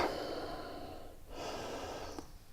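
A long, steady breath exhaled during a yoga forward fold, breathy and close, followed by a second sustained exhale after a short pause.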